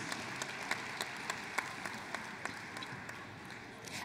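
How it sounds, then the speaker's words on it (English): Audience applause at the 2016 Dayton Unit NAACP Freedom Fund Banquet, a steady mid-level patter of many hands clapping throughout, with a few sharper individual claps standing out. "Can you give them a round of applause?"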